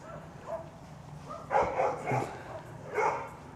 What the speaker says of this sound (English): that dog might be too loud